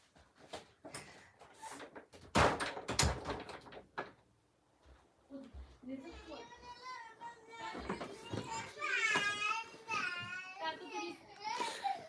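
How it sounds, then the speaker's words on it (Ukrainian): A door shuts with a couple of sharp, loud knocks partway through, amid children talking and playing close by in a busy indoor room. "так от двері закриваються"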